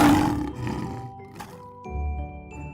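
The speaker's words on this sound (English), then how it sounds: "L is for lion." A lion roars in a short, rough burst at the start, then a light tinkling chime rings out as part of a children's alphabet nursery song, with no voices.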